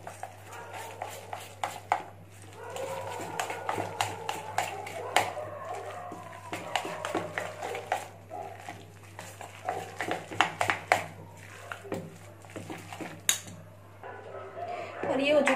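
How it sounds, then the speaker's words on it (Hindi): Moong dal pakora masala with crushed coriander being mixed by hand in a bowl, soft squelching and scattered light clinks and taps close by, while someone talks over it now and then. "इसको कर लेंगे अपन अच्छे से मिक्स"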